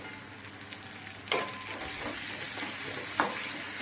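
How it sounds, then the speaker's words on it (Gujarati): Capsicum and onion frying in a pan with salt and turmeric, a steady close sizzle that jumps louder partway through, with occasional stirring scrapes and no voices. "આવી રીતે આપણે હલાવતા રહીશું અને કેપ્સિકમ અને ડુંગળીને બેને તળવા દઈશું"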